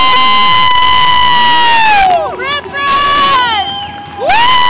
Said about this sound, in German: da geht's los und Applaus